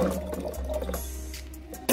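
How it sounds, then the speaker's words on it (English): Canned chickpeas are rinsed with running water in a strainer, a fairly soft, steady splashing and trickling that swells briefly at the end. "I'm going to put it into my strainer and then I'm going to wash it."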